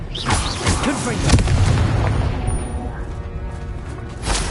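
A Confringo fire spell explodes in the video game Hogwarts Legacy, a loud booming blast that rumbles on among dense game effects, with voices mixed in.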